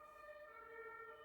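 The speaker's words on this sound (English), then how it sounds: "Let the ambulance through." An ambulance siren wails steadily, faint and somewhat distant, a sustained tonal note with no talking over it.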